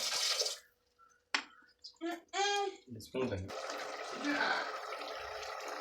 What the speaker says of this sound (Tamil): ரெண்டு டம்ளர் தண்ணி ஊற்றிக்கலாம்